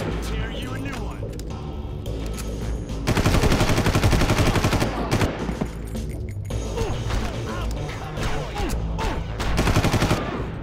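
Rapid automatic gunfire from the Far Cry game in a lava-flow level rattles in dense bursts, loudest in two sustained volleys, mixed with mechanical clanks while voices talk over it.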